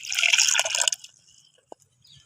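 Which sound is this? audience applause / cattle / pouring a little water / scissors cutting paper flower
pouring a little water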